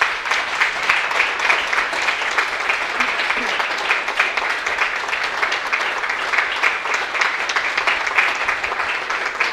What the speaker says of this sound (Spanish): Vamos a darle un fuerte aplauso a Dios.